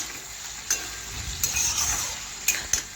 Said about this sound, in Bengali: আবার একটু নাড়াচাড়া করে নিচ্ছি আমি।